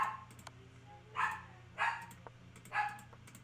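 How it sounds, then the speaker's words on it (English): A dog whines and yips in several short, high bursts spaced about a second apart, fairly close, over a low steady hum of a room. "I'm sorry if you hear the dog whining"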